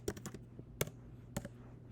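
A computer keyboard typed on while working in Canva: three quick bursts of crisp plastic key clicks with a few lighter taps between them, close and alone.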